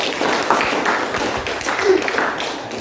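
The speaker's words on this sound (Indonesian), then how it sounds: "Beri tepuk tangan" Students in a classroom give brief, uneven clapping for a classmate, fairly faint and scattered, with some talking mixed in.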